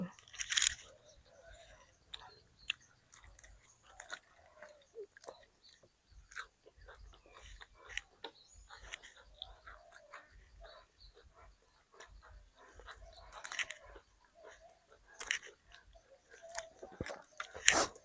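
Someone eats crispy pork rinds, grilled fish and fresh vegetables, with close, irregular crunches and chewing that come in scattered bursts over quiet gaps.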